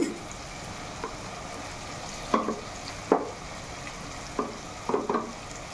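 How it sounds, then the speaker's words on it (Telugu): Chili powder and coconut paste stirred into aloo egg curry in a pan: a soft sizzle runs throughout, broken by scattered spoon scrapes, some single and some in quick pairs. "ఇప్పుడు కారం కూడా వేస్తున్నానండి. ఇది బాగా కలుపుకోవాలండి."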